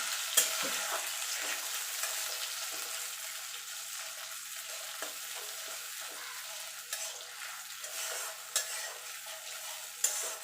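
Ginger and green chili sautéing in a pan with a little salt and water, a continuous hissing sizzle with occasional stirring scrapes and soft knocks.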